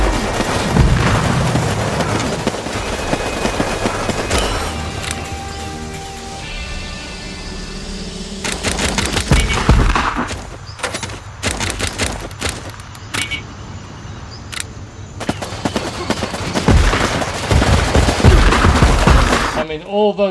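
Massed grenade launchers and gunfire in the strategy game Warpips: a dense, continuous battle of rattling shots, cracks and booming detonations, loud and close throughout, with someone talking over the fighting.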